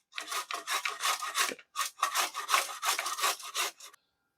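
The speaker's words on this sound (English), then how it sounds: "we're just going to use the big side of the grater here" Carrots are rubbed against the big side of a box grater, giving a series of quick, rough scraping strokes in a steady rhythm, with one short pause before the strokes resume and then stop.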